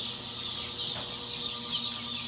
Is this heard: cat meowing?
no